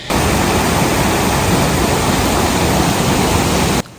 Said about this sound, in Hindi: मुझे पानी की आवाज़ इतनी अच्छी लग रही है कि मेरा दिल नहीं कर रहा कि मैं बोलूँ